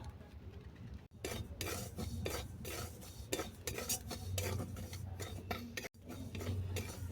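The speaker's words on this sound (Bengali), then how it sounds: "সুজিটাকে আমি হালকা ডাইরেস্ট করে নেব" Semolina dry-roasting in a pan, stirred with a utensil that scrapes and taps the metal continuously for several seconds, close and fairly loud, with two brief pauses.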